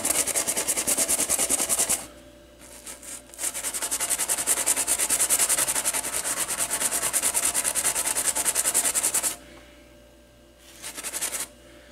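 Someone scrubs flux off an Asteroids arcade circuit board, giving a close, steady brushing rasp that runs for several seconds, stops briefly, resumes in a long stretch, then gives way to a shorter final burst.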